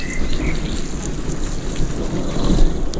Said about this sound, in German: Oh, jetzt reicht es aber langsam mit Gewitter hier.